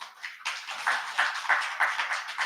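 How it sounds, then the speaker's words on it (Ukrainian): Audience applauding after a poetry reading, steady crowded clapping that swells after a brief start and holds fairly loud and close throughout. "Ваші оплески."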